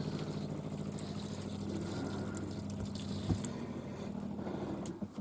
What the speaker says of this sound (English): now we're getting some water